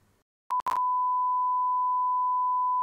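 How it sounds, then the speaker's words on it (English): A pure sine wave tone generated with the Python Pyo library sounds as a steady electronic beep after a couple of brief clicks, holding one constant pitch to the end. "The hello world of generating music is generating a sine wave."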